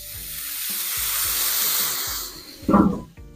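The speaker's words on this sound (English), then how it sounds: "Give this some steam." Steam hissing loudly over a burrito cooking on a hot griddle, a broad sustained sizzle that fades before a brief clatter and scrape near the end.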